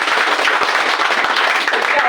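Enthusiastic clapping from an audience at a business opportunity meeting, greeting company founder Dr. Lim with a dense, close burst of applause lasting a couple of seconds.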